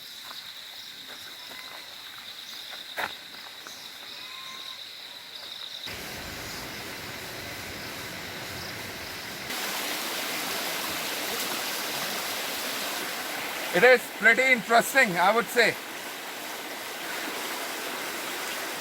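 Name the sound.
waterfall, flowing water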